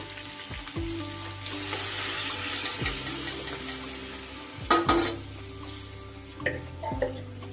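Cooked split pea lentils poured into a pan of frying green tomato, a sizzle that breaks into splashy, wet pouring and bubbling, followed by a few stirring scrapes, close and moderately loud with no talk.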